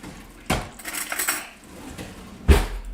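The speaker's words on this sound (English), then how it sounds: "just using a spoon, and that's going to help us get all that extra liquid out" A metal spoon scrapes and knocks against a pan or dish while liquid marinade is cleared from Japanese short ribs, giving two sharp clanks with softer scraping between them, close and quiet.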